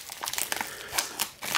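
A mail package of trading cards is torn open by hand, with several short crinkling and ripping bursts of paper and plastic, close and moderately loud.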